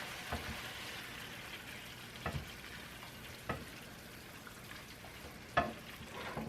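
Chicken and chayote sautéing in a pan: a soft, steady frying hiss with occasional sharp crackles and pops, fairly quiet and close, with no talking.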